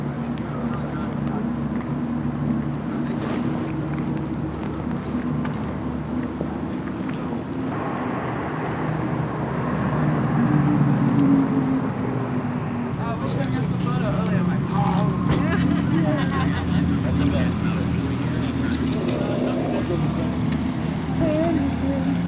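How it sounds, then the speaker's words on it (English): An Audi RS e-tron GT electric car plays its artificial engine sound, a steady synthetic hum with low rumble that swells slightly midway while driving, continuous and close throughout. "this car probably has the best faux engine sound I have heard in an EV."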